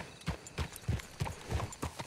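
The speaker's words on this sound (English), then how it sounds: "Let's hitch your horses up ahead." Horse hooves clip-clop at a steady walking pace in the video game Red Dead Redemption 2, around seven evenly spaced, fairly close hoofbeats with no voices over them.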